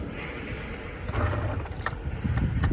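A boat's outboard engine is kicked over but won't quite catch, giving uneven rumbling bursts that sputter and die against a background of wind and water noise.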